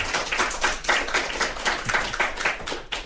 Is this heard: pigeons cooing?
no